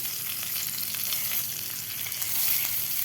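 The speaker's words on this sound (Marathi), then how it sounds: "आता आपल्याला हे अंडे व्यवस्थित फ्राय करायचे आहेत।" Eggs fry in hot oil in a pan for an egg masala curry, giving a steady, loud, close sizzle with a dense crackle that runs unbroken throughout, with no talking.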